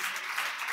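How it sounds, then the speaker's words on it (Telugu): An Easter worship congregation applauds steadily, with a dense, even patter of many hands clapping at moderate volume throughout. "గట్టిగా చప్పట్లు కొట్టండి"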